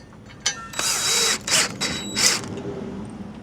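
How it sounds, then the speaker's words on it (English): A power drill with a 5/16 bit drives a masonry screw through a mounting plate during a home EV charger install, giving several short ratcheting whirs in close succession, fairly near and with no talking. "Got my drill ready with the screw in the 5/16 bit."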